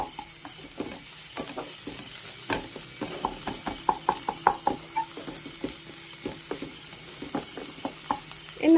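Egg masala sizzles in a pan while a spoon pushes and spreads it, producing a run of close, irregular scraping taps over a soft steady frying hiss, with no talking.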